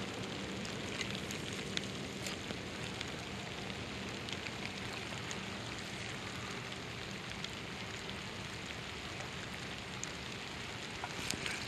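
Steady rain pattering on water and nearby surfaces at a fishing spot, a dense, even hiss with scattered drop ticks, soft and continuous throughout.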